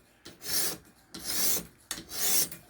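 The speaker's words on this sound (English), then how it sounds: "Now what you're seeing is me just doing a typical knife sharpening" A knife is drawn across a stone on a Ruixin Pro RX-009 sharpener in three rhythmic, evenly spaced rasping strokes, each a gritty scrape close up, with no talk.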